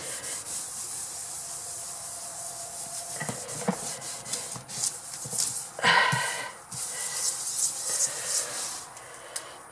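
Rust being scrubbed with a scrubby pad in the bathroom of a 1974 Silver Streak trailer: close, uneven rubbing and scraping strokes with a few sharper bursts over a steady background hiss.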